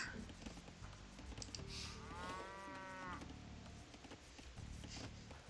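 A single drawn-out cow moo from the strategy game Age of Empires II rises clearly in the middle of a 1v1 match, set against a steady bed of game ambience with soft hoof-like clopping and bustle.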